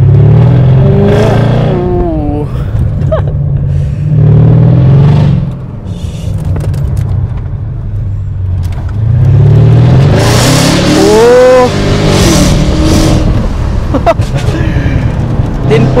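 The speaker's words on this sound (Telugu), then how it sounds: "V8 ఇంజన్ అండ్ దీని ఎగ్జాస్ట్ కూడా ఒకసారి మీకు వినిపించేస్తా." A V8 car engine and exhaust revving loudly close by, several deep roaring surges rising and falling with rumbling idle between them and a strong final pull, while people talk excitedly over the noise.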